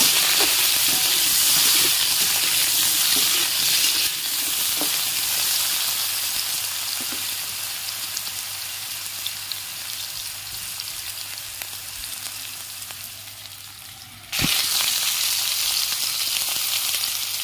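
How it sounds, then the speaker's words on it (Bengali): Potato pieces frying in hot oil in a pan for a fish curry with ridge gourd, a steady close sizzling hiss that softens for a stretch, then flares loudly again. "আলুগুলো একটু ভেজে নেব।"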